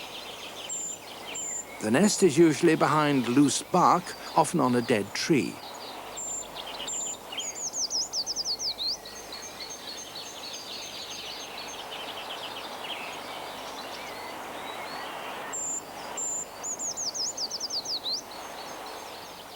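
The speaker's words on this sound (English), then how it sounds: "The high-pitched song of the tree creeper may be heard from February onwards" Tree creeper song: thin, very high-pitched descending trills repeated a few times at moderate distance, with a voice talking over the opening seconds.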